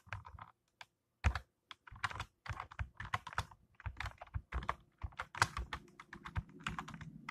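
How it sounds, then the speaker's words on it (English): Fingers type on a computer keyboard, a quick irregular run of close, crisp key clicks with brief pauses, sounding alone and fairly quiet. "Don't look at my fingers on the keyboard."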